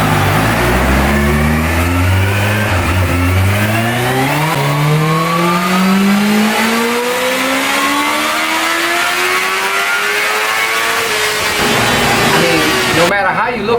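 A Kawasaki Ninja H2 motorcycle on its stock exhaust revs hard in one long, very loud pull, its pitch climbing smoothly through rising gears before a final spike and sharp cut. The sound is close and fills the whole span.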